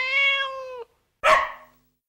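A cat meows twice, close and clear: a long drawn-out tonal meow followed by a short pause and a shorter, harsher second call.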